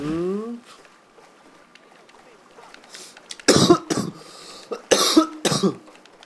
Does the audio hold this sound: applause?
no